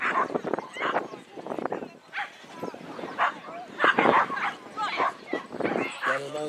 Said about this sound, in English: That is a blue Shetland sheepdog.